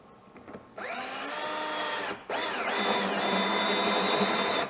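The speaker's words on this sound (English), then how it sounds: "We're just drilling into plastic," A power drill with a 3/4 inch spade bit whines up to speed and bites into plastic on a 2014 Yamaha Viking, stops briefly, then spins again in a steady, high-pitched grind.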